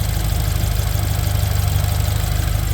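A rebuilt BMW N20 car engine idles steadily and evenly, a deep continuous rumble with a faint regular pulse, close and loud, with no voices.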